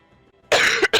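One person coughs twice in quick succession, close and loud, after a quiet moment with faint background sound.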